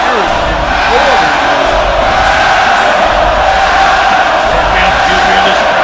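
An arena crowd in the WWE 2K18 wrestling video game roars in a loud, unbroken wall of cheering and noise that holds steady throughout, with voices mixed into the din.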